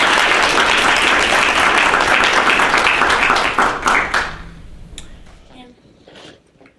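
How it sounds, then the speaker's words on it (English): Audience applause at a student leadership luncheon: dense, loud clapping for about four seconds, then thinning to scattered claps and faint room noise. "can we have another round of applause for our..."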